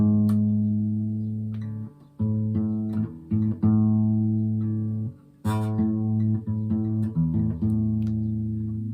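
Acoustic guitar strings plucked repeatedly while the tuning key is tightened, a series of ringing paired notes with short gaps between them, close and clear.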